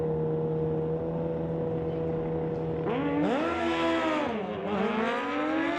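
NHRA Summit ET Series drag racing car making a run at a bracket meet, engine droning steadily then climbing sharply in pitch through gear changes, loud and sustained with no talk.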